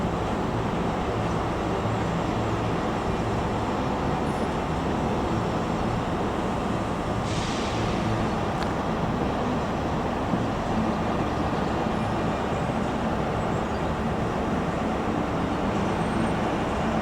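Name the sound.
Scotrail class 385 electric train departing Edinburgh Waverley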